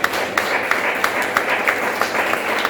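A church congregation claps in a loose, rhythmic pattern, sharp hand claps recurring roughly every third of a second over a murmuring background of voices.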